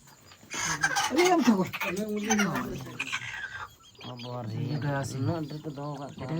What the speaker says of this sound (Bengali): অনেক মুরগি তো